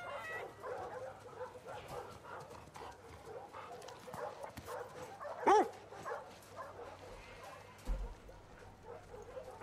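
A dog in The Last of Us Part 2 gives a single short bark or yelp, with a brief whimpering edge, amid low game ambience and scattered background noise.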